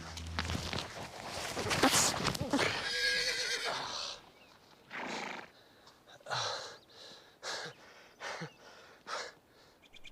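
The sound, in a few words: horse neighing and moving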